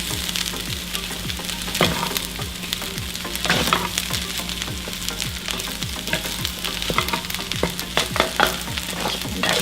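Breakfast fried rice with sausage is stirred in a hot pan, with a steady close frying hiss and a regular run of spatula scrapes and taps throughout, no voices.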